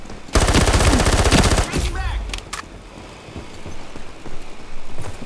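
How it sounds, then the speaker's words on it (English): Close-range hip-fire in the shooter Ironsight: a loud, rapid burst of automatic gunfire up front that breaks off after about a second and a half, then scattered quieter shots and game noise trailing behind. "Just straight up hip firing, like up close, nothing else."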